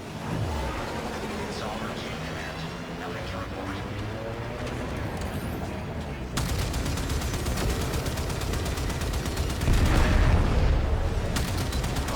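Sustained gunfire and booming weapon bursts in the Warframe video game, loud and continuous with rapid repeating shots and heavy blasts layered over a dense battle mix.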